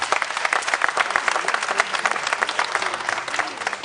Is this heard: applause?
yes